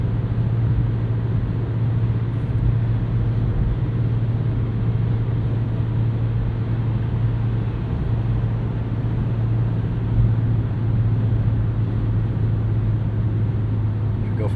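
Constant cabin drone of a 2024 Nissan Versa with a 5-speed manual gearbox on a morning commute, steady road and engine rumble throughout with no clear gear changes.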